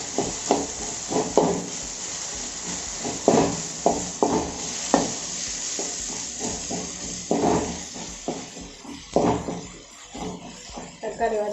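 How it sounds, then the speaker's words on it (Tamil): Tomatoes sautéing in hot oil for a South Indian fish curry, a soft continuous sizzle and hiss with repeated stirring scrapes and clatters, close by and moderately quiet under intermittent talk. "தக்காளி நல்லா வதங்கணும்."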